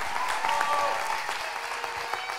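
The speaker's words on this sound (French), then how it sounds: "un tonnerre d'applaudissements pour Effie" An audience at the Miss T France pageant gives a dense, steady round of applause that stays loud and even for a couple of seconds.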